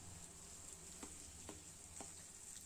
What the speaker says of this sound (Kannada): ಈರುಳ್ಳಿ ಟೊಮೆಟೊ ಹಣ್ಣು ಎಲ್ಲ ಹಸಿ ಸ್ಮೆಲ್ ಹೋಗ್ಬೇಕು, ಚೆಂದ ಫ್ರೈ ಆಗಬೇಕು.